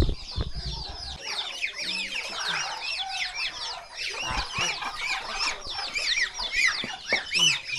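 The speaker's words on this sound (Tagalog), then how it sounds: "Ayun ba pinapakain mo sa manok dyan nang?" A flock of chickens clucking and squawking continuously nearby at morning feeding in the countryside, busy overlapping calls with some rustling and a voice briefly underneath.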